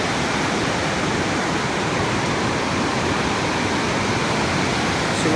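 A waterfall's flowing water roars outdoors as a steady, broad, unbroken rush, loud and close throughout with no talking.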